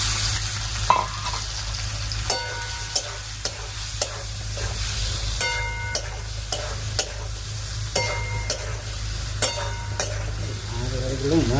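Potatoes fry in hot oil in a home kitchen while a spoon stirs them, giving a steady close sizzle with regular clinks of the utensil against the pan, sometimes under faint talk.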